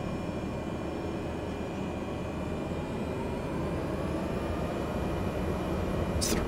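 Black Square Cessna engine in a flight simulator game, a steady broadband propeller-engine drone holding constant through the takeoff roll with a faint rising tone and a brief high click near the end.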